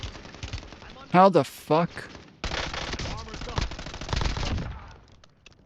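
Video game gunfire rings out in bursts, mixing rapid rattling volleys and sharp reports at a fairly loud level, while a player's voice talks over the shooting.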